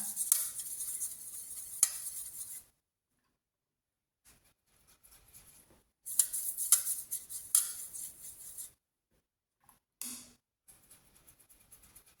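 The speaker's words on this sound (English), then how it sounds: "I'm just going to mix another bit of this colour" A paintbrush mixes watercolour paint on a palette for a tonal pumpkin study, giving close, soft scrubbing swishes in two main bouts, with short gaps and a few faint dabs between them.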